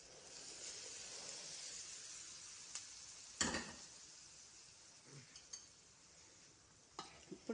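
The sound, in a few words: hot oil poured into spinach lentil mixture, sizzling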